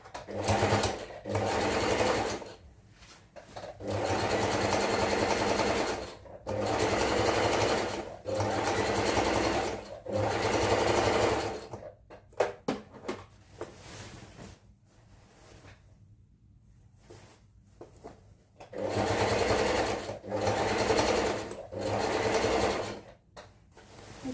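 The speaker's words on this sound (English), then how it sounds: "Make sure my needle is down" A sewing machine stitching baggy pants runs in repeated bursts of steady whirring, each a few seconds long, separated by short pauses and a quieter stretch of handling noise.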